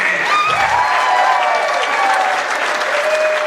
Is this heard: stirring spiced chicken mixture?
no